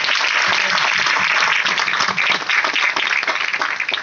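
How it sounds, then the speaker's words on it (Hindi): An audience claps in a sustained, dense round of applause at a seminar event, loud and even from start to finish, with no talk over it. "इनके लिए जोरदार तालियां"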